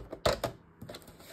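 A 6x3 inch sheet of paper is trimmed on a small paper cutter, producing a couple of quick crisp clicks and a short slicing rasp, close and fairly quiet.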